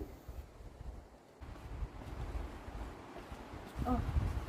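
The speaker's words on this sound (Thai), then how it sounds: "เสียงเหมือนคลื่นทะเลเลยนะ" Wind sweeps through a garden in a steady, rushing roar that swells and eases much like sea surf, with microphone buffeting throughout and a brief voice near the end.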